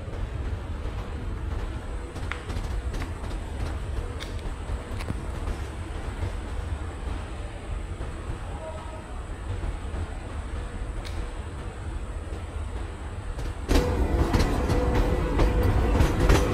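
Chennai–Nizamuddin Rajdhani Express train running, a steady low rumble with rhythmic clickety-clack of wheels over rail joints throughout, growing louder and brighter near the end, with no voices.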